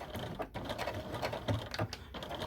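A sewing machine back stitching fanny pack fabric gives a quiet run of rapid mechanical clatter and ticking, close and steady with small uneven bursts.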